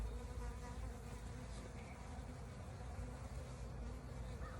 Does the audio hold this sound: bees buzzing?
yes